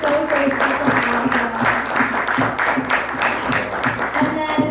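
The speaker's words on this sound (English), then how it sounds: "If we could have a huge round of applause for our speakers" Applause for panel speakers at a Harvard blockchain event, steady close clapping with a rhythmic pulse and some voices underneath.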